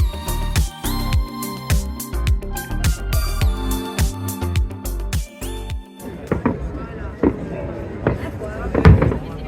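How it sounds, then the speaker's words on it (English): Bastille Day fireworks over a crowd gathered on a bridge: a rapid, loud run of sharp bangs and crackling bursts, thinning later into scattered booms and distant pops with crowd noise beneath. "We joined hundreds of other folks on the bridge to watch the fireworks at the end of the night."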